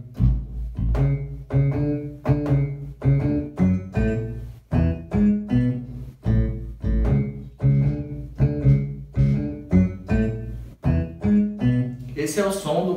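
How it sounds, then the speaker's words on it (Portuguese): A synthesized double bass tone from a keyboard plays a bouncing, regularly pulsed low line, each note thumping clearly with short gaps between. "Esse é o som do contrabaixo."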